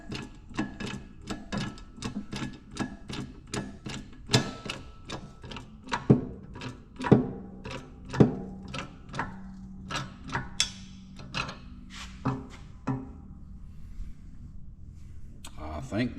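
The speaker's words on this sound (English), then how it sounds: "You put a big socket on top of it" A ratchet socket wrench runs down the diff lock gear on a KRX buggy, giving a series of close, rhythmic mechanical clicks that slow and grow sparser toward the end, with a few louder knocks.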